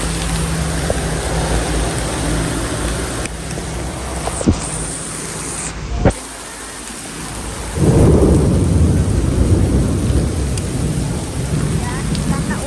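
Heavy rain pours steadily with a dense hiss, a sharp crack partway through, and the downpour swelling louder toward the end.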